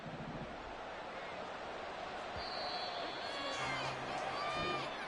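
Stadium crowd noise from an American football video game, a steady broad roar with rising cheers and whoops swelling toward the end, heard as a continuous wash of sound.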